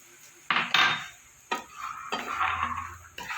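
A utensil stirs semolina in hot ghee in a pan, making close scraping and clinking strokes against the metal over a faint sizzle, in irregular bursts.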